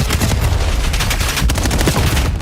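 Pistol gunfire in a competitive video game match rattles out as a loud, dense, continuous burst of rapid shots and impacts packed across a couple of seconds.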